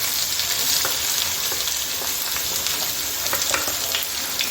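Chopped onion just dropped into hot oil with cumin seeds sizzles loudly and evenly, with scattered crackles and pops and light stirring, close up and with no voices.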